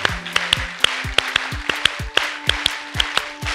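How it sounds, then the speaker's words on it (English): An audience clapping together in unison at an event, a run of sharp, evenly spaced synchronized claps about four per second, loud and close, with faint voices underneath. "Now let's try and see 15 claps"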